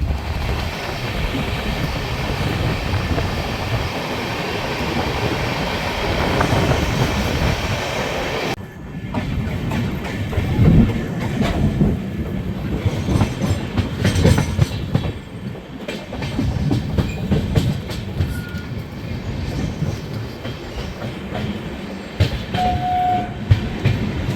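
The 13212 intercity express rumbles along the rails with loud continuous wheel noise and clickety-clack, heard from on board. The tone shifts partway through and a short whistle-like tone comes near the end.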